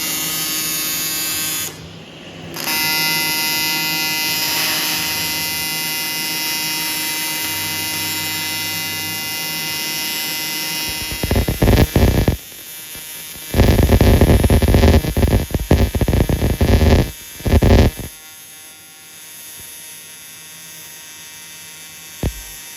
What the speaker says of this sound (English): we're doing some cutting. Just cutting away at my turbo